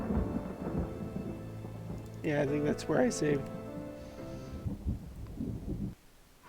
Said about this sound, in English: Some lovely thunder noises.